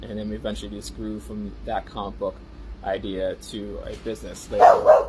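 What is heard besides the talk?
dog barking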